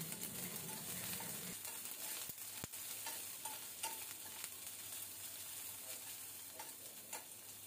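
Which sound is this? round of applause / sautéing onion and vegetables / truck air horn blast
sautéing onion and vegetables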